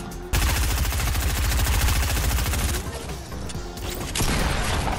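Shotgun gunfire in a video game comes as a loud, dense barrage of rapid overlapping blasts that rattles on almost without a break for several seconds.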